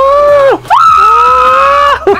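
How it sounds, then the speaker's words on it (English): Girl screaming while rocking on a pogo-style bouncing toy at a birthday party, two long loud piercing shrieks very close with a brief break between them, then a short cry at the end. "she's just leaning back and forth screaming."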